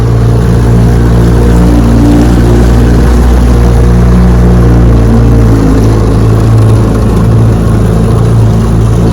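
An old Johnson 9.5 HP outboard motor with an upgraded fuel pump drives a boat at speed, producing a loud, continuous droning hum with steady water and wind noise throughout.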